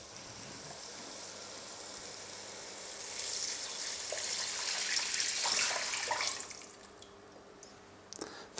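Vegetable stock poured into a pot of spicy lentil soup, a soft splashing gush that swells for a few seconds and then tapers off, close and fairly quiet.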